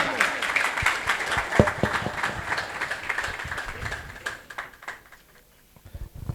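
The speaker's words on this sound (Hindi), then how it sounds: "एक बार जोरदार ताली हो जाए।" An audience at a tile fitters' and layers' meet for a tiles, granites and marbles business bursts into loud, dense applause that fades out over several seconds, with a voice briefly heard as it ends.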